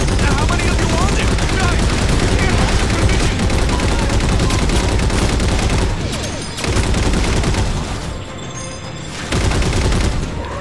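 Sustained, loud turret gunfire in the video game Halo 4, a dense continuous stream of rapid shots with brief dips, heavy and close throughout.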